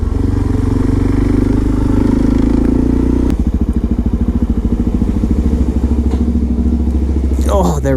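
A motorcycle engine runs close and loud, shifting partway through into a fast, throbbing rhythm as it rides on, with a brief rattle at the end.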